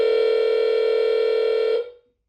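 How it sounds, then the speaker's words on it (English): A telephone tone heard while placing a call sounds as one loud, steady electronic note that holds for nearly two seconds and then cuts off into silence. "just answer the phone."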